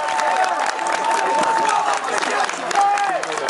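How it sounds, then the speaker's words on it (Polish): A crowd at a wrestling tournament, part of a medieval festival at Trzcinica, claps and cheers for the winner in a dense, continuous wash of applause, while someone speaks over the noise. "Brawa dla niego!"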